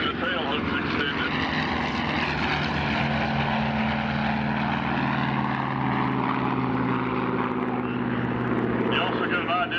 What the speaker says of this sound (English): He's going to clean up the airplane and accelerate.